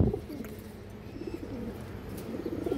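Several pigeons, among them a top-class hen bird, coo in soft, low repeated phrases nearby, the murmuring calls recurring in short pulses with no one speaking.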